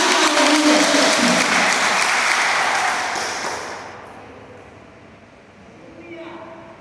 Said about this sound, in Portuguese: Nós te amamos esta noite, te aplaudimos fortemente.